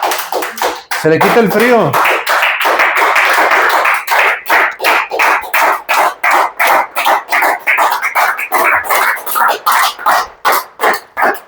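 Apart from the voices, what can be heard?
congregation applauding in church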